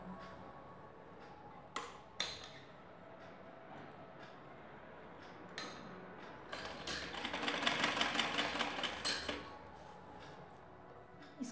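Sewing machine stitching a narrowly folded fabric hem on a kurti made from an old scarf, a rapid mechanical rattle that swells in the middle and then eases off, heard close with a few sharp clicks.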